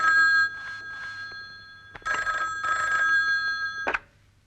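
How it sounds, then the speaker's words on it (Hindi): A telephone rings loudly in bursts of bright electronic trills, with a short gap between rings before a final ring stops. "अजय जी जरा फोन लगा स्टूडियो में, पूछ क्या हुआ"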